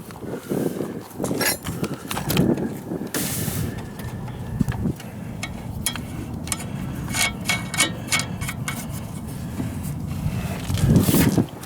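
A fork bolt is tapped into place during a coilover install on a Civic, heard as a series of sharp metallic knocks and scrapes at irregular intervals, close and clear in a workshop.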